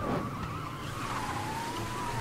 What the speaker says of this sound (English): Is that a police car?